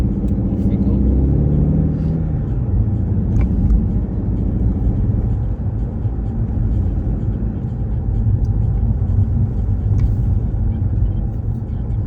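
A learner car pulls away on a Bolton driving test route, heard from inside the cabin as a loud, steady low engine rumble and road noise that stays constant throughout.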